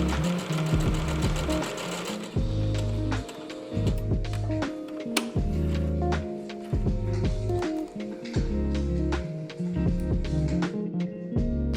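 A sewing machine stitching a blind hem on fabric runs steadily and loudly up close, its rapid mechanical needle rhythm pausing briefly and restarting, with no voices.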